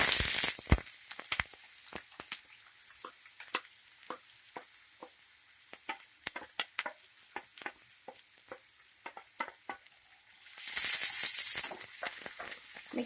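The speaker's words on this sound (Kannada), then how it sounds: "ಈಗ ಕಟ್ ಮಾಡಿರೋ ಈರುಳ್ಳಿ ಮತ್ತು ಹಸಿಮೆಣಸಿನಕಾಯಿನ ಹಾಕ್ಕೊಳ್ಳಿ" Chopped onion and green chilli hit hot oil in a pan, bursting into a loud sizzle that settles into steady frying hiss, broken by frequent clicks and scrapes of stirring and a second loud surge near the end.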